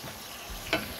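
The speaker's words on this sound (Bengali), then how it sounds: "তো পেঁয়াজ আর রসুন দিলাম, এগুলো একটু হালকা বোনা হোক।" Onion and garlic sizzling lightly in a pan, a steady close frying hiss with one brief scrape or clink near the end; no voices.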